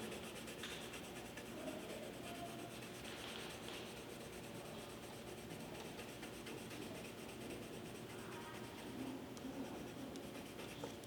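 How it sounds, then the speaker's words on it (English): Colored pencil strokes scratch across paper in a continuous, busy rhythm of quick back-and-forth rubbing, close and fairly quiet, building texture with no talk. "you can create strokes with your colored pencil to make a texture"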